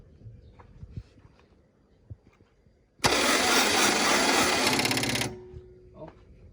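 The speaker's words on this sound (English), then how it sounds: "So now I will crank the engine without install the engine because the inside is a little dirty." A CAT 307SSR mini excavator's starter cranks the engine on a low battery, a loud, buzzing two-second burst that cuts off abruptly after quiet clicks and handling noises.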